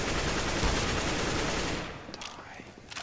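Rapid automatic AK rifle fire in Counter-Strike: Global Offensive rattles loud and dense for nearly two seconds, then breaks into a few scattered shots and echoes.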